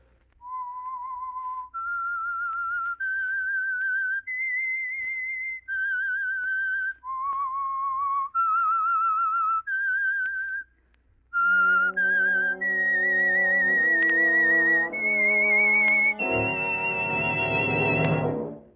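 A lone whistler carries the eerie theme melody of the 1940s radio drama The Whistler, clear sustained notes rising and falling in phrases, joined near the end by a swelling orchestral accompaniment.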